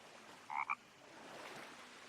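Two short, close frog croaks in quick succession from a forest hunting video game, with a quiet ambient backdrop before and after.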